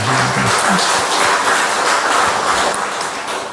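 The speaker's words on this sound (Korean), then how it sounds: "우리 이분들에게 격려의 박수 한번" A church congregation claps in encouragement during a Korean worship service, a dense, even wash of applause from many hands that lasts several seconds in a reverberant hall.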